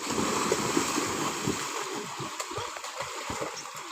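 Students racing in a pond splash and churn the water in an irregular rhythm, nearby and fairly loud, with no voices.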